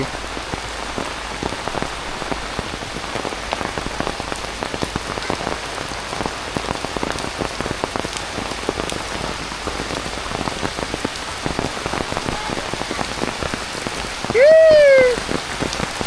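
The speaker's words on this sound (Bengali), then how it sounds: "বৃষ্টি দিয়ে আরে জোরে নামে রে" Heavy rain drums down steadily and loudly in a village setting, with a dense patter throughout and a short, high call rising over it near the end.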